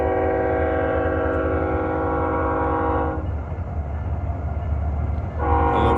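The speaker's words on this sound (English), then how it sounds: "I love trains." Santa Fe Burlington railroad freight train passing near the Rio Grande, a loud sustained multi-tone horn blast that breaks off midway over a constant heavy rumble of rolling cars, then the horn sounds again near the end.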